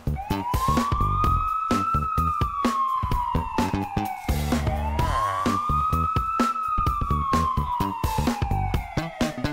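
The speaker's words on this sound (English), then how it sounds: "I think it's a police siren." A loud police siren wails continuously, rising and falling in long sweeps, up close, with rhythmic thumping music underneath.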